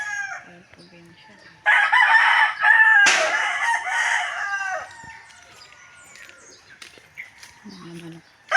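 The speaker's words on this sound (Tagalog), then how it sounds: "Mga manok." Chickens and a rooster in a rural countryside yard, the rooster crowing loudly twice up close, with scattered clucks and faint bird chirps around it and soft talk at the edges.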